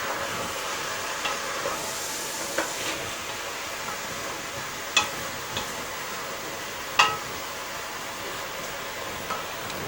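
Fry bread frying in a pan gives a faint, steady sizzle with a few sharp ticks and taps scattered through it, like a utensil touching the pan.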